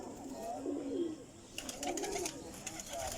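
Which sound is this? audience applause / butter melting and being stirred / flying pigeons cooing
flying pigeons cooing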